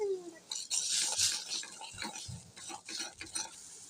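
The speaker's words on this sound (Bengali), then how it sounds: "আদা ও রসুন বাটা নেড়ে চেড়ে মশলাটাকে ভালোভাবে কষিয়ে নেব" Ginger-garlic paste and masala stirred and fried in a pan, with a spoon scraping and clinking against the metal in uneven strokes and a soft sizzle underneath, fairly quiet.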